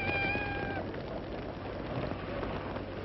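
A cat meows once at the start, a short pitched cry over steady rain-like background noise, followed by dull rustling ambience.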